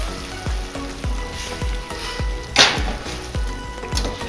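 Ragu meat sauce with wine simmering in a pan, a soft steady sizzle and bubbling with regular low thumping pops and an occasional brief clatter, close and moderately quiet.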